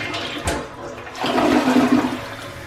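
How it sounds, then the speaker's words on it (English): A toilet flushes nearby in a home bathroom, a short click followed by a rushing, gurgling surge of water that swells and holds steady, with no talking. "now let's take a look in the toilet so we can actually get it flushed"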